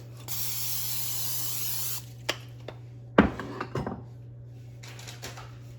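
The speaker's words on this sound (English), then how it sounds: "And then I always spray my pan with extra virgin olive oil." A steady hiss of extra virgin olive oil spray lasts about two seconds, followed by a few light metallic clinks and rattles of a frying pan, over a low constant hum.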